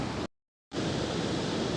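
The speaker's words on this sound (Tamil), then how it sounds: "பாருங்கள் தண்ணி எவ்வளோ ஆர்ப்பரிச்சு வருது பாருங்கள்" Kaveri river water rushing through Kallanai dam, a steady roaring hiss with a brief cut to silence partway through.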